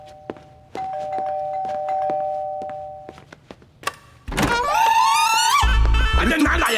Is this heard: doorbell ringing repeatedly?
yes